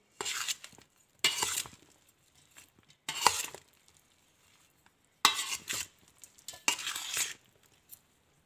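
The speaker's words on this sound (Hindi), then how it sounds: "फिर से हम इन सब चीज़ों को अच्छे से मिक्स कर देंगे" Carrot and lemon pickle ingredients stirred together in a bowl, giving bursts of scraping, clinking mixing strokes separated by short pauses, close and moderately loud.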